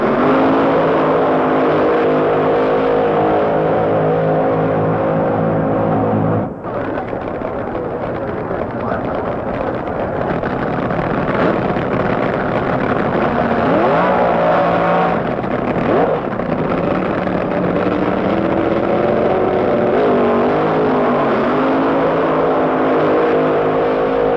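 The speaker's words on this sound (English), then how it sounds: "Nitro-burning, Hemi-powered funny cars." Nitro-burning, Hemi-powered funny cars at a drag race roar loudly and continuously, engine noise dense and sustained with a brief dip partway through before the roar resumes.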